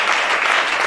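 Audience applause in a church gathering, a dense steady burst of clapping heard close and loud for under a second, no voices over it.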